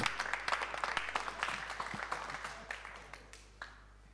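Applause for the young athletes at a sports press conference, a steady patter of many hands clapping close by that gradually thins and fades over a few seconds.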